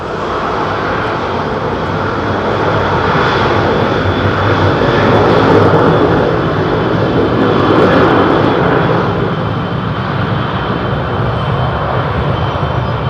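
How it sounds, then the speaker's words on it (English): A Delta Boeing 767 jet taxiing at London Heathrow: loud, steady jet engine roar and whine, close and continuous throughout with a slight swell in the middle, with no talk. "I think this Delta 767 is ready to move"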